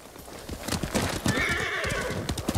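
A horse in Ghost of Tsushima whinnies with a drawn-out neigh while its hooves clip-clop in a steady rhythm, close and fairly loud throughout.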